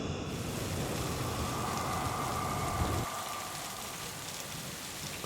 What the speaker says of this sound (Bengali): আর শুরু হলো ঝমঝমিয়ে বৃষ্টি